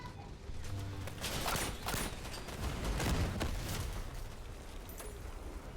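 Cannon fire booms in rough succession amid the rumbling battle noise of the vehicle combat game Crossout, a mix of dull blasts and mechanical clatter at moderate loudness.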